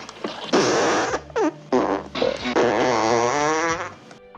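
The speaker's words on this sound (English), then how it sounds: "The legendary fart scene." Comic fart sound effect from the campfire scene in the 1974 film Blazing Saddles, a series of loud, bursting blasts and wavering, bubbly tones over about four seconds, close and prominent with no speech.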